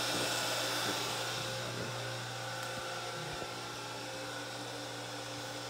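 Steady mechanical hum and whine of a jet pump running continuously as a 1996 Whirlpool direct-drive washer fills, with a constant droning tone and faint rushing water, no speech.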